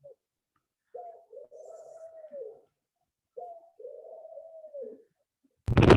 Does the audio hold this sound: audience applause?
no